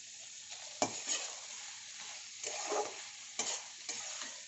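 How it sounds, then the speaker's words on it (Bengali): Cauliflower stalk curry stirred in a pan over a raised gas flame, with faint sizzling and a few sharp clinks and scrapes of the spoon, close and fairly quiet. "এবার একটু সামান্য নাড়াচাড়া করে নামিয়ে নেব"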